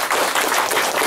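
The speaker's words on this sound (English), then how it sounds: "let's give Dan Kai just a rounded applause for all of us." Loud, continuous audience applause for Dan Kai at a business etiquette session, many hands clapping close and evenly throughout.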